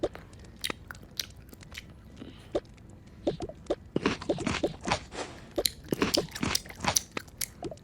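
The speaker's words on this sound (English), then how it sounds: "Can you stop chewing like that?" Loud chewing while eating Thanksgiving food, with crunchy bites and wet mastication sounds close to the microphone, sparse at first then dense and rhythmic in the second half.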